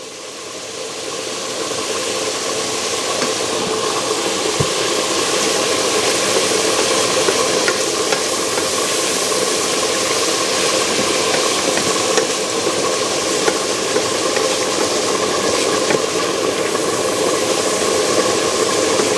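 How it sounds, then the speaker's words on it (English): An electric coffee mixer grinds Maggi seasoning with a loud, continuous motor whir and rattle that holds steady throughout, with no voices. "I blend my Maggi in my coffee mixer"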